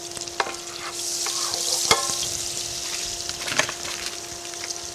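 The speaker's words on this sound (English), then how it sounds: "I'm going to start it with a little bit of onion, a little bit of garlic. Got some hot pans here." Onion and garlic frying in a hot pan, a loud, continuous bright sizzle with a few stirring scrapes and clicks, heard up close with no talking.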